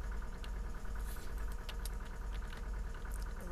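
A tractor engine idles in Farming Simulator 2013 on the Hagenstedt map, giving a steady, low, even rumble with no speech.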